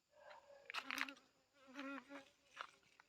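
Honeybees buzz faintly around dahlia flowers in a home garden, with a few short, close buzzing passes that rise and fade over a few seconds.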